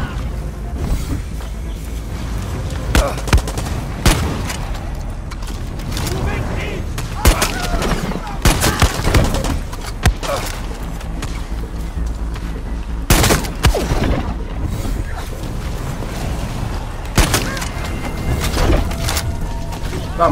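Rapid bursts of gunfire and explosive booms in Far Cry 6, including shotgun blasts, crackle densely throughout, mixed with game music and effects, while a player talks over the action.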